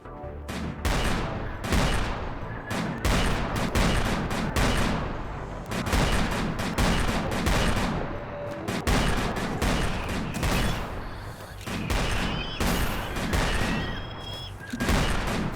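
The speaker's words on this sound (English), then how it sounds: "Look at all these ones shooting at the zombie over there." Video game gunfire aimed at zombies, dense repeated bursts and rapid volleys of shots crackling almost nonstop, loud and close, with brief gaps between clusters.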